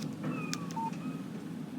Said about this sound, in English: Text message from Barry.